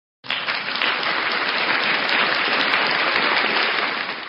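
Dense crowd-style applause sound effect that starts abruptly and holds at a steady, full level for about four seconds before easing slightly at the end, with no voices over it.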